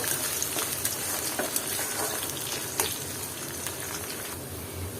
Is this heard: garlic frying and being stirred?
yes